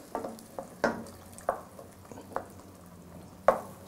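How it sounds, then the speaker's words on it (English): An orange-fleshed sweet potato masala cooks in a pan, with a soft, steady sizzle broken by several distinct stirring scrapes and clinks at irregular intervals. "So we simmer this for a few minutes."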